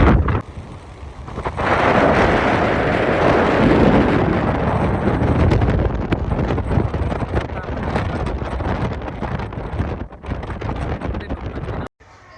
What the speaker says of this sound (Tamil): பாம்பன் பாலத்தில் சரியான காற்றுங்க.